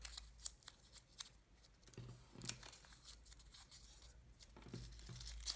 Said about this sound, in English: you can go ahead and crumple them up